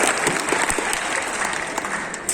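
An audience applauds a Hindi political speech with sustained, fairly loud clapping and a faint crowd murmur, with no talking over it.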